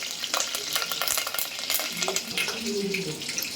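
Mustard seeds and curry leaves frying in two spoons of hot oil for a spinach chutney, with busy crackling, popping and sizzling plus occasional stirring, close and steady throughout.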